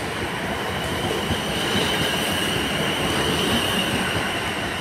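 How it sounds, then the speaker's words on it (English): A Class 444 electric multiple unit, unit 444-021, on the 11:33 service from Poole to London Waterloo, departs Brockenhurst station. Steady, loud rail noise with rumbling wheels and a high whine runs throughout, with no talk. "departing out now is the 1133 service to London Waterloo, originating in Poole"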